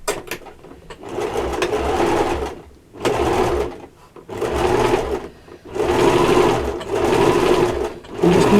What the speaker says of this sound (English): And I'm just going to sew this.